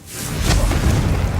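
A Confringo spell blast in Hogwarts Legacy lands as a loud, close booming burst with a rushing swell that stays sustained and rumbling after the impact.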